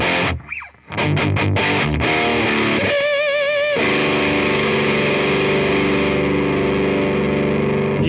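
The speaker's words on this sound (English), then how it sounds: "I got on the dirty channel with the boost turned off because it sounds good overdriving this guy." Electric guitar played through a breadboard-built overdrive pedal into a Crate Blue Voodoo amp on its dirty channel, a few picked notes then sustained distorted chords with a wavering bend, loud and close.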